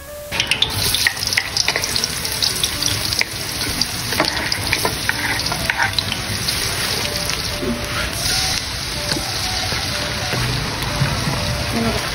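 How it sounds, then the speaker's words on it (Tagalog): Hot cooking oil sautéing for lechon paksiw fills the space with a loud, constant, close frying hiss, dotted with sharp crackles and spatters for the whole stretch. "Painit na tayo ng mantika at mag-uumpisa na tayong maggisa."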